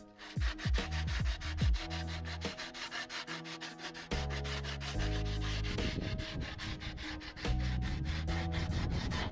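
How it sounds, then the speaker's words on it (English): Rapid rhythmic rasping strokes of sandpaper scrubbing carbon fiber, continuous and close, with a low steady hum underneath. "about 20 minutes worth of sanding later, we're done"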